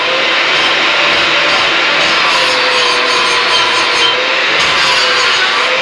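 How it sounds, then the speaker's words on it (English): An angle grinder with a flap disc bevels cut metal edges during C-notch fabrication on a Willys lowrider, giving a loud, steady grinding roar that runs without a break for the whole stretch. "I want to get all the edges cleaned up. Give them a nice bevel."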